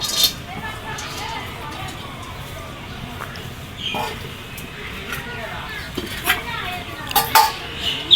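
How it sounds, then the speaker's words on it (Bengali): A spoon scrapes and clinks in a pot as a small-fish chorchori with chapila fish, eggplant and potato is mixed by hand. The light, irregular taps run under steady talking. "এই গুঁড়া মাছের চচ্চড়িটা মাখিয়ে নিব"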